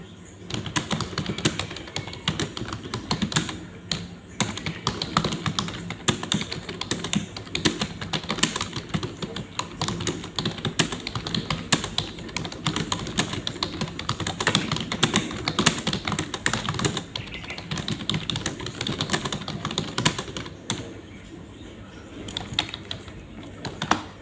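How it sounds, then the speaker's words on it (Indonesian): Typing on a computer keyboard, a fast continuous patter of close key clicks running steadily for the whole stretch with brief faint talk beneath. "Dan langsung ketik."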